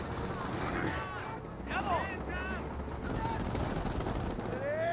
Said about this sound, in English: MG42 firing away